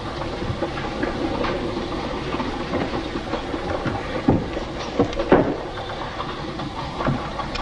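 A 1940s passenger train clatters along the rails in a steady, loud rumble, with periodic clicks and clanks of the wagons and occasional hissing, and no voices.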